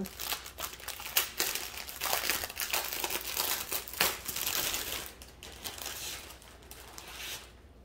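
A resealable plastic bag holding diamond painting diamonds is opened up close, giving continuous crinkling and crumpling with a few sharper rustles, fairly quiet, ending abruptly.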